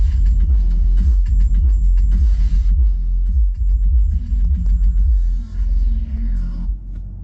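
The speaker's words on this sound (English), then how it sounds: "that bass is so deep, so hard hitting" A DD Audio 6.5-inch subwoofer in a car audio upgrade pumps deep, loud, throbbing bass with rhythmic pulses that dominate the cabin, with no talking.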